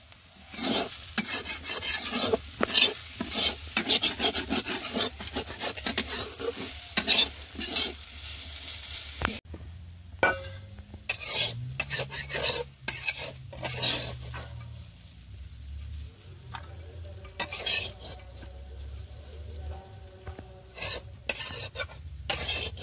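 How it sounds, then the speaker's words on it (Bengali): A spatula scraping and spreading food around a pan with ghee during a Durga Puja morning, rapid repeated metallic scrapes that come densely at first, then thin out over a low background hum. "খুন্তি দিয়ে চারিপাশটা ছড়িয়ে দেবো"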